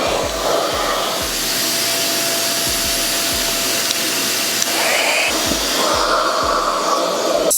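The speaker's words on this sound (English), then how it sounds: "I'm gonna be going in with the Rev Air next." A RevAir hair dryer blows through natural hair in a loud, steady airflow roar, with rhythmic low thumps as the hair is pulled and the pitch shifting slightly partway through.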